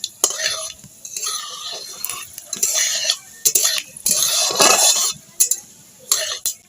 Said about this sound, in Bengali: 5 ফোড়ন আর লঙ্কাটা আমি ভেজে নেব।